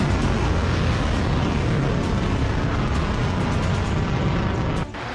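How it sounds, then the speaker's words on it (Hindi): A massive explosion as an Iranian Shahab-3 ballistic missile strikes the ground, a dense sustained roar and rumble filling the whole span at high loudness and easing only slightly near the end. "जमीन पर सब कुछ भस्म कर देने वाला धमाका"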